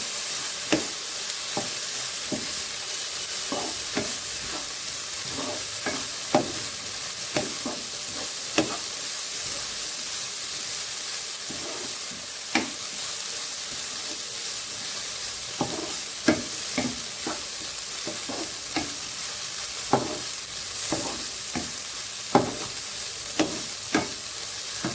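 Cauliflower paratha filling seasoned with garam masala frying in a pan, a steady close sizzle broken by frequent sharp scrapes and taps of a spatula stirring, with no voices.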